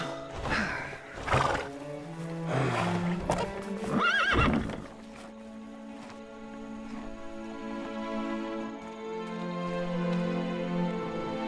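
A horse in LEGO The Hobbit neighs and whinnies several times with clip-clop hoofbeats early on, then settles under a soft sustained game soundtrack.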